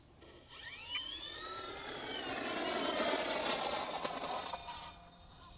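An Avios C-130 RC model plane makes its maiden flight, its electric motors rising into a loud, steady high-pitched whine with climbing tones that holds for several seconds before easing slightly.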